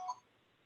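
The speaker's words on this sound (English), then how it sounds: "that was my phone. I'll just get rid of it." A mobile phone gives one short, faint electronic notification tone that fades quickly into quiet room tone.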